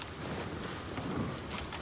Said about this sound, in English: one nice thing is that it's raining